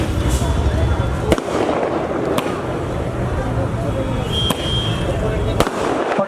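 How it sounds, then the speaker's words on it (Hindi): Firecrackers crack in sharp scattered bursts at an Independence Day celebration in India, amid a noisy crowd with people talking throughout. "पटाखों से भी स्वागत हो रहा है।"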